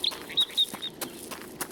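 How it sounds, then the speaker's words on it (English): Birds chirp loudly around a house in a video game, giving a run of short, sharp high tweets with small clicks between them, heard alone. "God, why are the birds so loud?"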